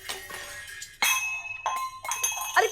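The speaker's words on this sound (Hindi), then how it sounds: "अरे किसका गुस्सा निकाल रही हो बर्तनों" Kitchen utensils being clattered and banged around angrily, giving several bright metallic and glassy clinks and crashes in irregular bursts, close and fairly loud.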